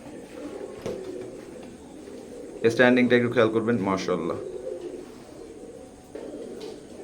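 A pair of baby teddy pigeons of pure Oman bloodline, still at zero feather, coo softly in a short burst while someone talks over and around them.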